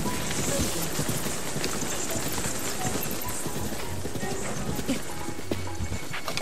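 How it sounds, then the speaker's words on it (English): Steady, dense rain patter in the video game The Legend of Zelda: Breath of the Wild, hissing across surfaces, continuous and fairly loud, with scattered faint clicks and thuds mixed in. "Oh, it's raining."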